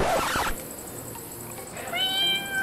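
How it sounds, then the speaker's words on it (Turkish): A cat in a video game meows, a short clear high-pitched call near the end, following a brief burst of game noise and set against a steady background hum. "Miyav sesi geliyor."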